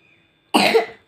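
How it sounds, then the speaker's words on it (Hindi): One short, sharp cough rings out close by, a single harsh burst lasting about half a second after a quiet stretch. "खांसी भी होगी"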